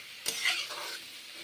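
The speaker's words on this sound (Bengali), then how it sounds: "লবণ আর হলুদ দিয়ে তারপর কষে নিচ্ছি।" Papaya pieces stir-fried in a pan with salt and turmeric, one quick scrape of stirring followed by a soft, close sizzle that fades over a second or so, with no talk.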